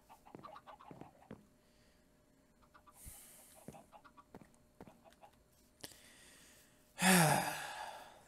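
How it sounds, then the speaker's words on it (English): Chicken clucking in a Minecraft-style video game, a series of short, sharp clucks and squawks spaced irregularly over quiet, followed by a louder, drawn-out squawk near the end. "This chicken still has not died"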